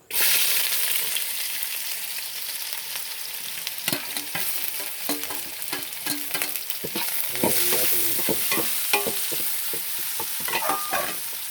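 Chopped onions, added after fennel seeds have browned for chicken chukka, sizzle loudly in a hot oily pan while a utensil stirs them, giving a steady close frying hiss broken by scraping strokes.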